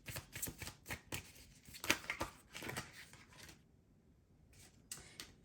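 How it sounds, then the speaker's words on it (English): Tarot cards being shuffled by hand in quick bursts of riffling and slapping, a brief quiet gap, then a few more flicks, close and fairly soft. "Let me go ahead and do a quick shuffle"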